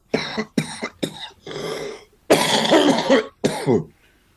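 A man coughing in several sharp, separate bursts, some harsh and drawn out, with throat clearing between them, close and alone without talk.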